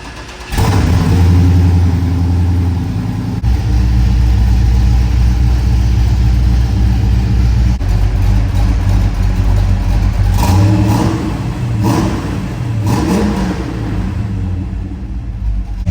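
A cammed 1995 Chevrolet Camaro Z28 with an LT1 V8 starts up and settles into a loud, choppy lope, close by. It then revs repeatedly in sharp bursts near the end, with no talking.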